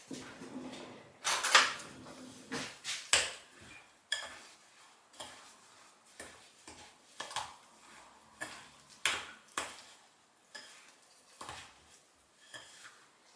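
A spoon stirs a sweet cottage cheese filling for vatrushki in a bowl, producing a series of close scraping and tapping strokes in an uneven rhythm with quiet gaps between them.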